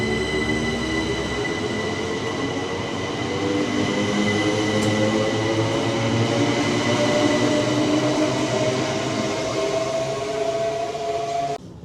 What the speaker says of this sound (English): So that's the 10:38 class 375 heading up to London Charing Cross.